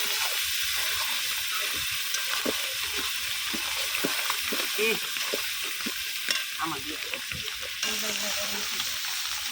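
Fish being fried and stirred in a pan, with a constant hiss of sizzling oil and repeated clicks and scrapes of a spatula, close and moderately loud.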